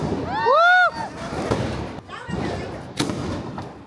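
Firecrackers bursting on a busy road during Diwali, with a sharp bang cutting through near the end amid shouting voices and crowd chatter, plus a rising whistle-like tone early on.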